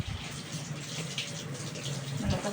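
Tap water running with strong pressure, a continuous gushing hiss with a slight surge near the end, close by and steady, with no talking.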